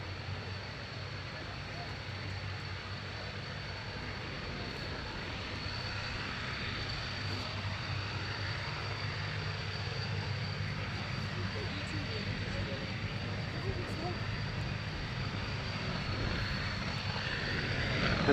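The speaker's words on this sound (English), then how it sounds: "we'll let you savor the sound of the of the Daimler-Benz engine" A Daimler-Benz engine in a Messerschmitt Bf 109G warbird drones steadily and continuously, a constant mid-distance roar with a faint high whine that holds for about eighteen seconds, building slightly at the very end.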